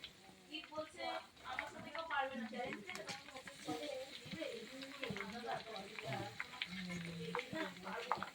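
Food frying in a kadai of oil gives a soft continuous sizzle, largely under steady close talking.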